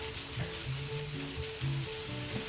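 Bacon dropped back into a pan of beef and mushrooms: a steady, moderately loud sizzle of frying with faint scraping and light clatter on top, and no voices.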